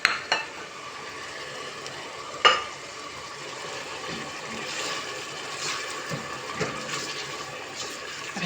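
A meatball soup base with tomato paste sautés in a pot, giving a soft, steady sizzle with occasional faint stirring scrapes.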